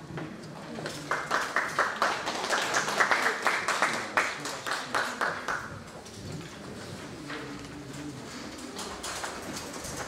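Audience applause at a national poetry recital contest rises to a loud patter of clapping for a few seconds, then thins out, with some faint voices and background sound underneath.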